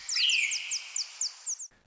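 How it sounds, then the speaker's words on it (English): A mother bird in a storm-rescue cartoon gives a single fairly faint, bright chirping call with a few quick repeated trills over about a second and a half, heard alone. "The mother bird circled Ruby and Finn, chirping her thanks"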